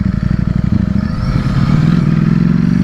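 A Ducati StreetFighter V4S rides on the road, its V4 engine giving a loud, close, pulsing drone that rises slightly as the bike pulls along, with steady wind rush and no talking.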